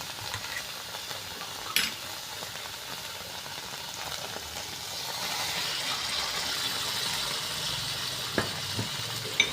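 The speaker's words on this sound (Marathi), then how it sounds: "आता हा मसाला परतून झाला, आता मी हे दाण्याचं वाटण टाकून देते।" Peanut paste stirred into a masala frying in a pan for a green urad bean dish, giving a steady soft sizzle with a few sharp clinks of the spoon against the pan.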